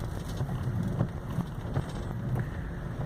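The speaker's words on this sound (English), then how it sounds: "Right now, the rain isn't as bad as it was for a while there." Steady rain patters on a taxi during a storm, a constant soft drumming hiss with a low rumbling undertone and scattered slightly louder drops, no voices present.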